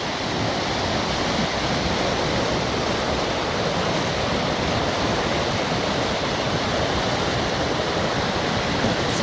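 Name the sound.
Teberda mountain river flowing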